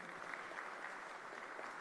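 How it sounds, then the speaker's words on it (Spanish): An audience at a government launch event for a national decarbonization process gives steady, moderately distant applause, a continuous even patter with no clear pauses. "Un fuerte aplauso para los realizadores de este audiovisual"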